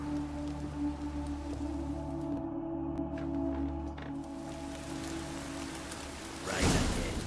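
Rain falling in The Witcher 3 video game, a soft steady patter over low droning music and ambience, fairly quiet, with a brief brighter whoosh near the end.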